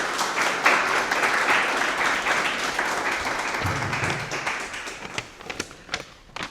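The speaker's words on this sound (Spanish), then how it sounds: "un aplauso para Pablo Díaz Fernández." An audience applauds at a talk on the Middle Ages for young people, a dense, steady wash of clapping that thins into scattered individual claps near the end.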